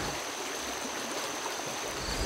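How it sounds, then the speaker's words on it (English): Cedar Creek, a stream flowing into the North Fork of the Shenandoah River in Virginia, bubbles and rushes in a steady, dense wash of running water, close and continuous with no voices. "a stream called Cedar Creek bubbles into the North Fork of the Shenandoah River"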